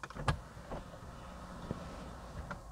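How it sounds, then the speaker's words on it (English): Electric roof of a 2018 Mercedes-AMG E63 S 4MATIC+ tilting open, a soft motor whir inside the cabin with a few faint clicks and thumps as the panel moves, fairly quiet throughout. "Oh, I will just tilt the roof."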